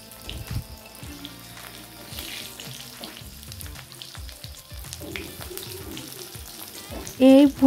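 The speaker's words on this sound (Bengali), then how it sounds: "আরও 1 মিনিট উল্টো সাইড ভেজে নিতে হবে" Stuffed kakrol, or teasel gourd, fries in oil with a close, fairly loud sizzle and crackle, with occasional scrapes and clatter of a utensil and a sharp bump near the end.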